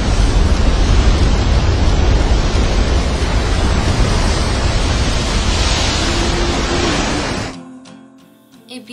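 Ocean waves breaking over a coral or rock reef make a loud, continuous roaring wash of surf that cuts off abruptly near the end, leaving near silence.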